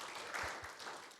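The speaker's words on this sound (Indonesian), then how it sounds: "Boleh tepuk tangan bagi Tuhan Yesus." Brief applause from a church congregation during an Indonesian-language Sunday afternoon service, a soft wash of clapping lasting about a second.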